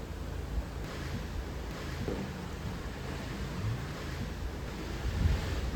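Ocean waves washing steadily far below a cruise ship balcony on Independence of the Seas, a continuous broad rush of surf mixed with wind buffeting the microphone, with no talking.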